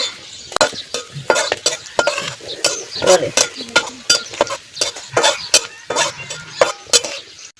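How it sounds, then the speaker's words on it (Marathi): Onion roasting in a pan for a village-style maswadi: repeated scraping stirs of a spatula against the pan, rhythmic and close, over a light sizzle, loud and alone without speech. "याचा कांदा भाजून घ्यायचा."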